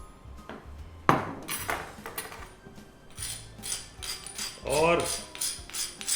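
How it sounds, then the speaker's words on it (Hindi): A knife chops sweet potato on a hard surface: sharp, uneven cuts and clinks come close and clear, with scraping between strokes and a brief ringing knock near the end. "शकरकंद को मैं काट लेता हूँ।"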